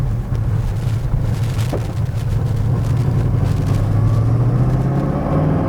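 A 1966 Chevrolet Chevelle SS396 big block with a 4-speed drives along, its exhaust a steady low rumble that rises slowly in pitch, with wind buffeting the microphone throughout.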